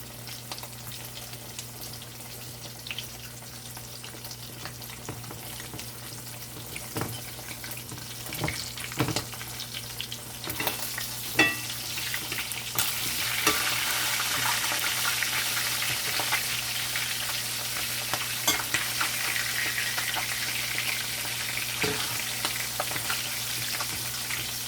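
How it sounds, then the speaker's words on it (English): Pieces of salt codfish fry in a pan for a Jamaican fry-up, a continuous close sizzle and crackle that grows denser partway through, with faint clinks over a low hum. "So we just take off a few pieces to do the fry up."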